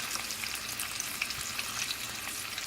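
Smoked sausages sizzling in a frying pan as they brown, a dense steady hiss close up with occasional soft shifts as they are moved around.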